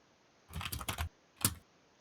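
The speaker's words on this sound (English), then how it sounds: "Typing." Keystrokes on a laptop computer keyboard: a quick burst of several clicks followed by a short pause and one more sharp tap, close and clear against a quiet room.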